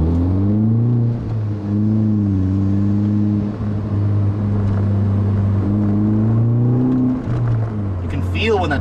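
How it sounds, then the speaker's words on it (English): 2007 Mini Cooper S turbo engine pulling hard inside the cabin, a loud steady drone rising in pitch through gear changes, with a voice talking over it. "You can feel when that turbo kicks in, it just pushes you back in the seat"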